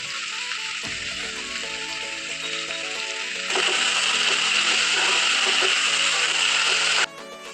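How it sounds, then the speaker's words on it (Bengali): Potatoes and onions frying in a pan with turmeric and salt give a steady, close hissing sizzle, with tonal music playing underneath. "আলু পেঁয়াজগুলো একটু ভাজা হয়ে গেছে"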